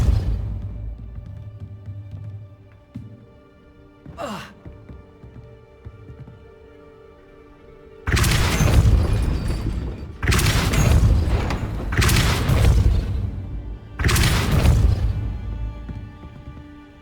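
A force spell cast in the Hogwarts Legacy video game: a low hum with a brief swish, then a series of loud, booming blasts in rapid succession, each with a heavy thumping impact.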